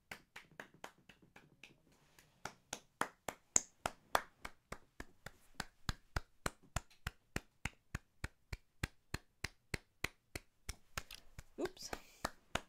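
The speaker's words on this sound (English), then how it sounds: "Do some louder clapping" A single person at a live drawing workshop claps alone in slow, evenly spaced beats, sharp and close, continuing steadily for several seconds before a brief burst of noise at the end.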